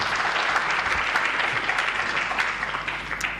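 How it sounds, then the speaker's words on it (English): Audience applause at a human rights convention at Kabira Country Club fills the room, a steady, full wash of many hands clapping without pause and no talk over it. "I think he deserves a warmer applause than what you've given him"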